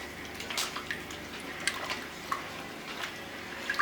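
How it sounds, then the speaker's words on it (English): Cold water is poured into cassava starch and salt for banku, giving soft close splashes, drips and wet squishing, quiet with small irregular peaks. "I'll add 1 cup of cold water to melt the starch"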